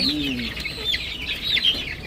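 A spotted hen clucks on a farm in Jaffna, a short run of several quick, close clucks with small chirps between them, moderately loud and without any voice.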